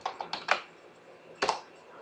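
Keystrokes on a computer keyboard as a search is typed into a web browser: a quick cluster of close, crisp clicks, then a pause and one more short burst.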